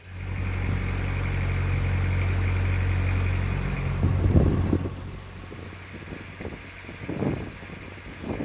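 A narrowboat engine's steady low drone chugs for about four seconds, then cuts out, leaving wind buffeting and scattered knocks and rustles.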